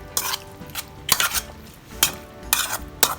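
Pork pesto pasta with broccoli stirred in a hot pot, the spoon knocking against the metal in several sharp, close clatters spaced roughly half a second to a second apart, with a faint sizzle underneath.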